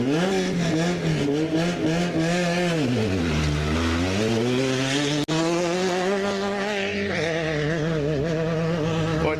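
A 4-cylinder race buggy engine revs hard at a NORRA 500 desert race start in Ensenada, loud and close. Its pitch climbs, drops into a low idle, then rises again in sustained, rough surges.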